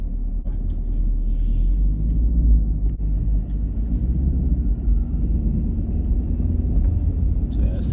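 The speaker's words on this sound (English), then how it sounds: "So yeah, this thing definitely does sound good on idle." A 2017 Chevy Camaro 1SS with its V8 engine idling, a deep, steady low rumble held close and even throughout, with no talk over it.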